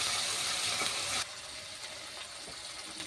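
Ginger, garlic and dry red chilli paste being fried into a masala, a steady hissing sizzle that drops noticeably quieter after about a second, then continues as a low, even crackle.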